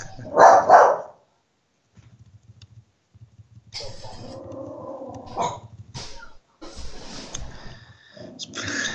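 A dog barks inside a house, a loud burst near the start and further sharp barks later, mixed with other indoor noises and some background voices.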